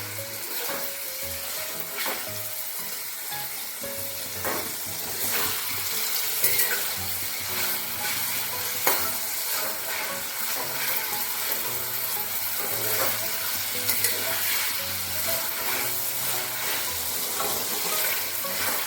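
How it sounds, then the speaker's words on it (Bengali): Chicken pieces sizzle steadily in a hot pan for chow mein, with a spatula scraping and stirring in irregular strokes throughout, close and fairly loud, no talking. "চিকেনগুলোকে ভালো করে ভেজে নিতে হবে"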